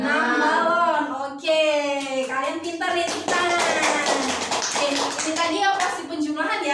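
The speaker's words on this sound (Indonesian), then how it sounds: "Oke, kalian pintar ya, tepuk tangan." Children in a math classroom clap together in quick, scattered taps, mixed with a teacher's sung or spoken voice and kids' voices throughout.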